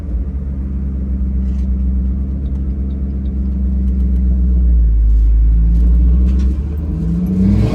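A Ford Mustang 3V engine with an exhaust leak runs rough, a loud, close, uneven low rumble that swells and dips, with a brief rev-like rise midway and no speech.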